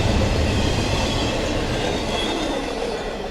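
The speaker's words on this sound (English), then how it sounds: "And that was a short train." A short CSX freight train rolls past at night, steady loud rumbling of wheels on rail with metallic squeal, close by and continuous throughout.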